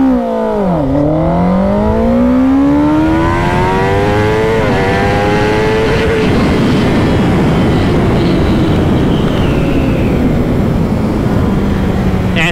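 A Kawasaki ZX-10R sport bike does a full-throttle launch-control start: the engine briefly holds steady revs, then pulls up through first gear in a loud, rising, near snarl that smooths into a steady high-pitched roar.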